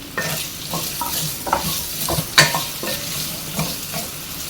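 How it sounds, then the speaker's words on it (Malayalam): Chopped tomato sautéing in a pan for aloo pulao, a close, loud sizzle with rhythmic scraping strokes of a spoon stirring roughly every half second, no talking. "ഇനി നമുക്കിതിലേക്ക് ഒരു തക്കാളി അരിഞ്ഞു വെച്ചത് ചേർത്ത് കൊടുക്കാം"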